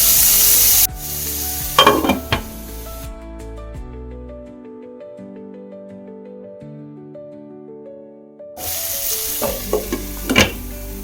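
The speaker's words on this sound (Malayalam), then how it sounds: "ഇതിലോട്ട് നമുക്ക് അരിഞ്ഞു വെച്ചിട്ടുള്ള തക്കാളി ചേർത്ത് നല്ലപോലെ വേവിക്കാം" Chopped tomatoes fry and get stirred with spice powders in a pan for a jackfruit seed curry, a loud sizzle with stirring scrapes at the start and end and quiet music in between.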